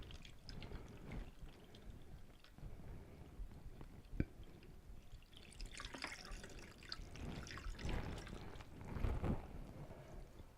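Homemade ginger beer is poured into a bottle, a faint, close trickle and splash with a few uneven gurgles as the liquid fills the bottle.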